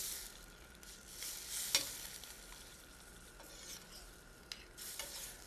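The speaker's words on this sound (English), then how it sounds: "The nice thing about preparing it in the saute pan, as we're doing here, is that you have complete control over how far the vegetables are going to be cooked." Vegetables sauté in a sauté pan topped with basil and oregano, giving a soft, steady sizzle with occasional stirring scrapes and utensil clicks, fairly quiet and without voices.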